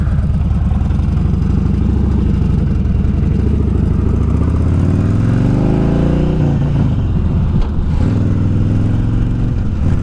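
A Harley-Davidson Dyna Street Bob motorcycle with new handlebars and forward controls starts and rides off, its engine rumbling steadily and loudly throughout, rising in pitch as it accelerates then settling back.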